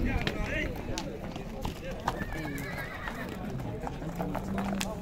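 Horses neigh and whinny at an outdoor horse market in Sokuluk, Chüy, with hooves clip-clopping on hard ground amid a busy crowd; people talk throughout over the animals.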